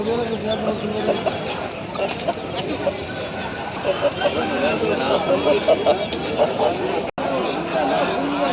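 Salem breed hens cluck intermittently at a Sunday poultry market in Pileru while several people talk over them in the bustle.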